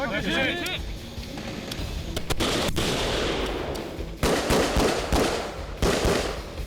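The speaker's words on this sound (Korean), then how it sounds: "왼쪽 가슴 표적에는 속사 사격을 실시하고 오른쪽 가슴 표적에는 더블탭 연속사 사격을 실시하도록 하겠습니다" Live handgun fire at close-quarters chest targets during military CQB training, mixing single rapid shots with quick double-tap pairs. The sharp broadband cracks ring out loud and near, with chatter and reverberation between bursts.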